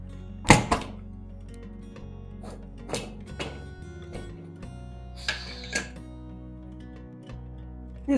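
A series of metallic clunks and clicks, several sharp knocks spaced irregularly, as a pressure cooker lid is fitted and locked on, close by with no talking.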